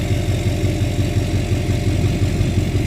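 A 2006 Duramax LLY diesel pickup runs through an MBRP exhaust with a bad hanger, a loud, close, throbbing low rumble given a small, steady blip of revs while still cold.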